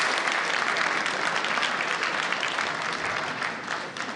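Conference audience applauding at a Munich gathering of world leaders, dense sustained clapping from a large crowd, close and loud, tapering off slightly at the end.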